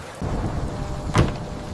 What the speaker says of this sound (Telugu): అకస్మాత్తుగా భారీ వర్షం మొదలైంది